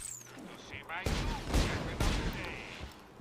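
Gunfire in the video game Borderlands 2 comes in a few sharp, loud bursts of rapid shots, separated by short pauses, with game effects in the background.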